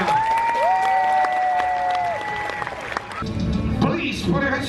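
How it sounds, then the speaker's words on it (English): A cruise ship audience applauds a singer at a Voice-style competition show, with steady clapping for a few seconds while sustained tones ride above it; the sound shifts to a thinner, more scattered clatter with mixed voices toward the end. "Give him a nice round of applause."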